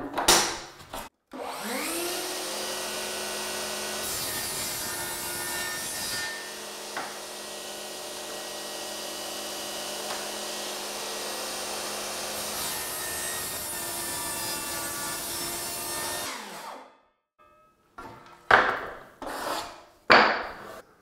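Table saw spinning up and ripping steadily through a wooden window stool board for about fifteen seconds, loud and close, then winding down, followed by a few knocks and handling sounds.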